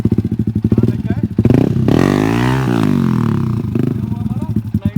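A motorcycle engine idles in rapid pulses during a 90-degree bike stunt, then revs hard into a loud, sustained roar that climbs and falls in pitch before settling back to a throbbing idle.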